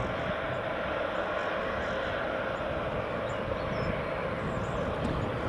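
A KLM Boeing 737-800 arriving from Amsterdam on approach to Edinburgh Airport gives a steady, broad engine roar at some distance, continuous and unchanging in level throughout.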